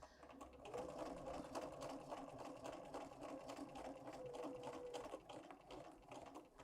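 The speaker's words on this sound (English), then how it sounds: "Don't pull the quilt through, let your walking foot take it." A sewing machine fitted with a walking foot quilts through a quilt, running in a fast, steady mechanical whir with rapid needle clatter, close and continuous with a brief change in pace near the end, no talking.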